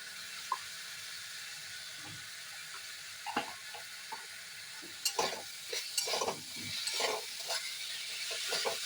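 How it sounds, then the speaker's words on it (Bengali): Spices sizzle quietly in a pan with chilli powder and a little sugar, faint frying hiss under scattered scraping and clinking stirs that grow busier toward the end. "তো মশলাটা ভাজা হয়ে গেছে"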